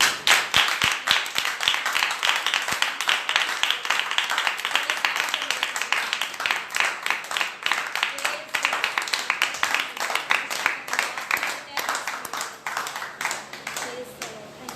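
A church congregation clapping loudly during a Sunday prayer service, a dense stream of rhythmic hand claps from many people, close and sustained throughout.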